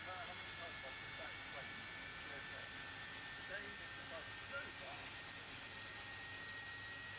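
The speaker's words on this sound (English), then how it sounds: "Good engine start on engine 1." An Airbus A300-600 jet engine spools up steadily at startup in Microsoft Flight Simulator 2025, a continuous even whine and rumble heard from the cockpit, with a voice talking over it.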